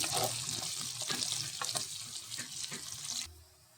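Onion with curry leaves fries in oil for a snake gourd curry, making a bright, continuous sizzle that stops abruptly near the end.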